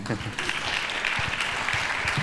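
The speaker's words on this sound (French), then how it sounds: "Je crois que ça peut s'applaudir quand même, non?" An audience at a Paris luxury summit claps in a dense, continuous wash of applause, loud and close, with voices murmuring beneath it.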